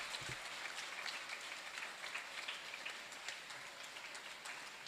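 A school audience at a live-streamed ceremony applauds as a guest comes up onto the dais. The clapping is faint and distant, a steady patter that runs the whole time with no talking.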